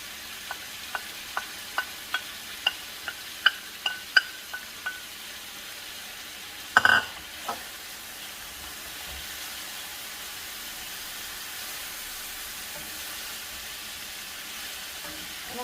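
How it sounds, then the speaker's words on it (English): Browned rice hits a pan of frying albondigas, meatballs in a kitchen, with a short rustling clatter of grains after a series of light rhythmic taps. A soft steady sizzle continues alone afterward. "now I'm going to go ahead and add our browned rice."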